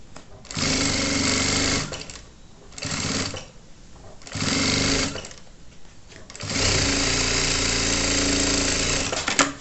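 A sewing machine runs in four bursts of rapid stitching on a children's backpack, starting and stopping with short pauses and a long final run, loud and close with no talking.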